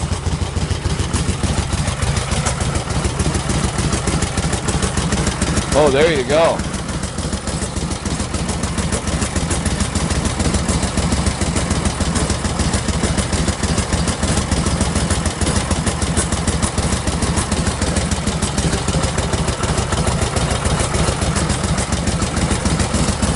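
A 1947 Harley-Davidson Knucklehead motorcycle idles from behind, its exhaust giving a loud, steady low rumble with a loping, uneven beat throughout, briefly under a short spoken remark.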